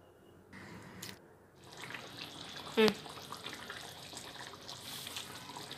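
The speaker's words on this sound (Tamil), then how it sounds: "கறிக்கு தேவையான அளவு சுடு தண்ணி" Hot water poured into a pot of chicken curry, a steady watery pouring wash running through most of the stretch with one brief louder splash near the middle, heard alone at close range.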